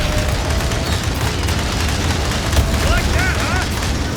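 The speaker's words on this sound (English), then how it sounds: "Grenade!" A grenade blast in the video game Aliens: Dark Descent, a loud, low rumbling boom amid continuous dense battle noise, with crackling bursts and a brief rising electronic warble near the end.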